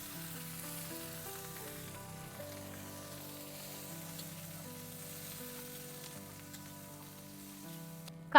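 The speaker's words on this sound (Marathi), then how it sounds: "मस्त तवा तापलाय. त्याच्यात आता कांदा टाकून घेते." Onions hit a hot griddle over a wood-fired clay stove and sizzle in a soft, continuous hiss. Faint steady tones sit underneath, and a sharp bump lands at the very end.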